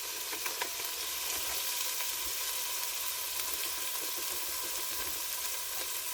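Chopped celery sizzles and fries in olive oil in a pot for a meatball soup, a steady, dense crackling hiss that stays even and fairly close throughout with no talking.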